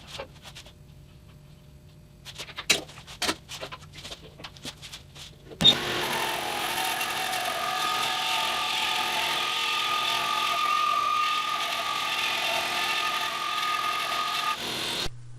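A band saw fitted with a WoodSlicer blade rips a thin board, about 25 thousandths of an inch thick, in a workshop: scattered knocks and clicks first, then a sudden, steady, loud cutting whine that holds for about ten seconds and stops.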